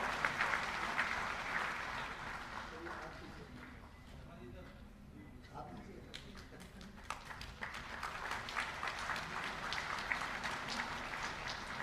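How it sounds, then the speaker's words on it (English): A crowd applauds at a felicitation ceremony in India as the Chairman and Managing Director of REC is welcomed on stage; steady, dense clapping fills the room with voices mixed in. "Put your hands together for Shri Rajiv Sharma"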